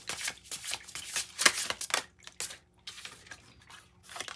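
A Heavenly Bodies astrology oracle deck is shuffled up close, producing quick papery riffling bursts and soft card slaps in an irregular rhythm, with no talking.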